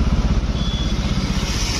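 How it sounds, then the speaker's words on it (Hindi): A vehicle engine runs close by with a steady low rumble and a fast, even pulsing, like a small motorcycle-type engine idling, continuous and alone. "पर इंजन ऑन होने की आवाज ही आ रही है अभी तक"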